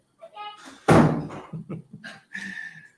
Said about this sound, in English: Could you close the door, Max?